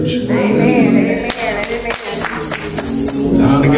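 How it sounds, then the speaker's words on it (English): A few people clapping in a church during a Sunday sermon, a short burst of scattered sharp claps mixed with a preacher's raised voice and organ-like tones. "I got 2 claps out of that."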